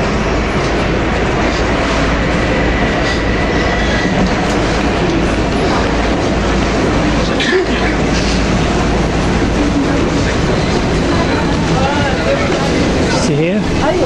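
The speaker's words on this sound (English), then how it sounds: "See here? These are driverless trains." A driverless train on a London metro line heading toward Canary Wharf rumbles steadily with clattering wheels and a few brief squeals throughout, loud and continuous, with people talking faintly inside the carriage.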